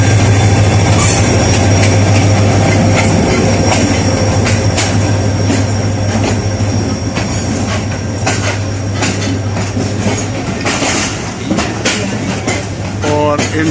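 Pakistan Express passenger train pulling into Faisalabad railway station, a loud, steady low rumble of rolling coaches with clanks, wheel squeal and platform bustle close by throughout.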